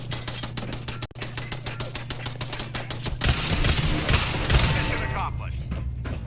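Automated turret gunfire in the game Fallout 4 rattles in rapid, evenly spaced bursts, then swells into a louder, denser barrage with booming impacts, under a low game hum.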